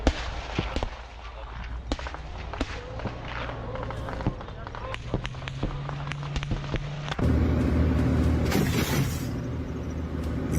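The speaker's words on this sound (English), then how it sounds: "Ukrainian tank is suppressing Russian positions with precise fire." Ukrainian tank firing on Russian positions in combat: repeated sharp blasts and cracks over a constant rumble of engines and battlefield noise, with a louder, denser stretch near the end.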